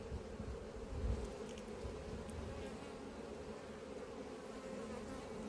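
Honey bees hum at an open hive during an apiary inspection, a quiet, continuous droning buzz with a few brief louder passes of nearby bees and no talk over it.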